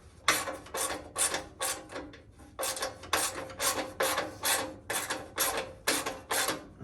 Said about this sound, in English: We're just gonna start here by taking off this flywheel cover.